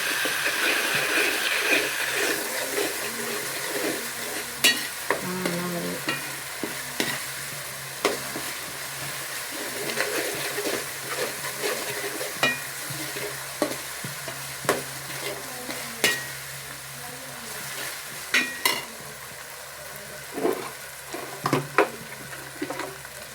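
Onion and spices for a fish curry being sautéed and stirred in a pan: a steady sizzle runs throughout, broken by frequent sharp scrapes and clacks of the spoon against the pan, with no talking.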